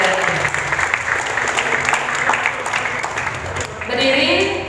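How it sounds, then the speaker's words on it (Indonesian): Applause for the winner of a student legal-awareness ambassador contest, a dense steady clatter of many hands filling the hall for several seconds, with a brief dip and then a renewed swell near the end. "Tepuk tangan untuk juara ini"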